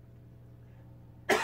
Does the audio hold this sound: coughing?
yes